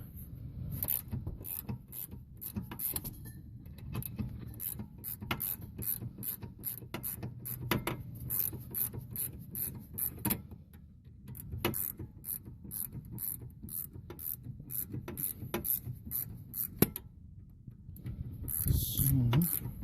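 Ratchet with a 14 mm socket working a caliper bolt loose on a 2004 Nissan Murano during a rear rotor and pad job: steady, close mechanical clicking in runs with brief pauses, with occasional talk.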